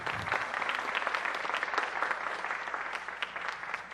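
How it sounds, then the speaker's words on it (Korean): A church congregation claps together in steady, dense applause that holds at an even level throughout, with no talking over it. "박수 한번 주세요"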